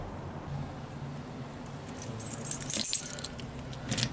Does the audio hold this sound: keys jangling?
yes